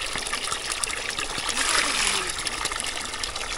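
Spring water trickles and dribbles continuously nearby, a bright splashing wash with a faint voice underneath.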